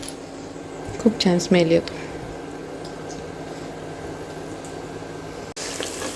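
Ginger garlic paste frying in hot oil for pav bhaji gives a steady, close sizzle throughout, with someone speaking briefly over it.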